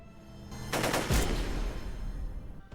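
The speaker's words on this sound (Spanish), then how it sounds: "Ambos disparamos nuestras armas y recibimos un balazo" A short burst of rapid, loud video game gunshots in an exchange of fire, close by, followed by a low rumbling tail as the noise dies away.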